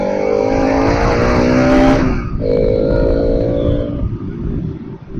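A Suzuki Gixxer 150 motorcycle accelerates hard to overtake a bus on the road. The engine note is loud and close and climbs steadily, then drops sharply after about two seconds and settles into a lower, steadier drone.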